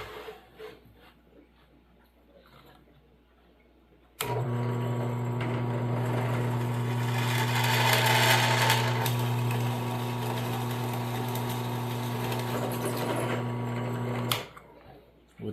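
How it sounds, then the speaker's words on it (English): A drill press with a 1/8 inch bit bores holes for an RC trailer build, its motor starting abruptly and holding a steady, close, whirring drone for about ten seconds before cutting off. "I'm going to finish drilling out all my holes to the 1/8 inch drill bit"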